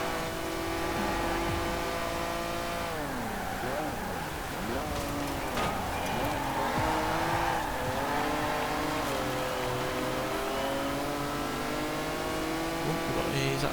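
Dino sports car engine racing in a video game championship, revving up and down through gear changes alongside other cars, steady and loud throughout under a commentator's voice.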